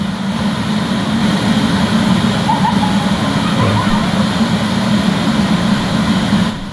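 A constant, loud roar of rushing water fills the clip, a dense unbroken wash like a waterfall heard up close.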